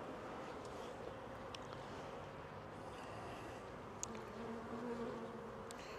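Dense, steady buzzing of many honey bees from an open hive set for winter, a continuous close drone with a few louder bees flying past.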